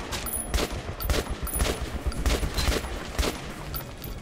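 Rapid bursts of gunfire from the video game Metro 2033 Redux, a steady run of repeated shots at a moderate distance, with no speech over them.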